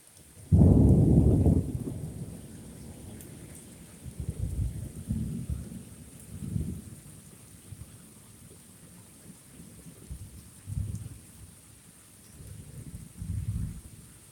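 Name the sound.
thunderstorm with thunder and rain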